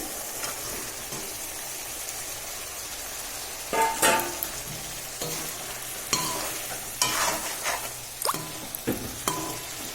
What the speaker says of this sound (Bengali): দিয়ে দিচ্ছি মাছ ভাজাগুলো।